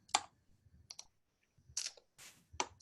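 Computer keyboard keys struck in short separate clusters, crisp close clicks with brief quiet gaps between them, in a still room.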